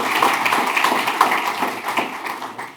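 Audience applause at an awards ceremony, steady clapping from a crowd that holds even for a few seconds and then begins to taper off, with no talking over it.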